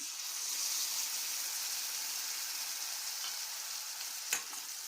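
Brinjal and green peas fry in hot oil for vangi bath gojju, giving a continuous close sizzling hiss with a single sharp clink of a utensil near the end.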